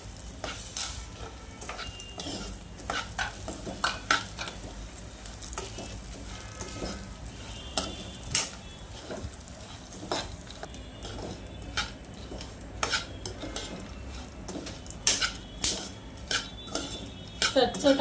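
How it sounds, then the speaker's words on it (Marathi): Mixed seeds roasting together in ghee in a pan for jaggery laddoos, with a faint crackle and sizzle under repeated metallic scrapes and taps of a stirring spoon, close by and without talk. "त्याच तुपामध्ये आपण बिया भाजून घेणार आहोत."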